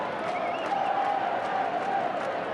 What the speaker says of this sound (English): Crowd, of course, in full voice.